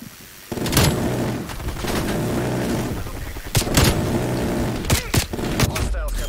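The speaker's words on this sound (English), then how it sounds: "Death machine going hot." Death Machine minigun firing in Call of Duty Black Ops Cold War during a Hardpoint match on Nuketown: several loud, sharp bursts of rapid gunfire separated by short gaps, over a background of game noise.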